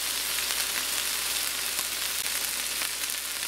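A pot roast sears in a hot pan, giving a steady, dense sizzle and crackle that runs without a break, close and fairly loud, with no voices.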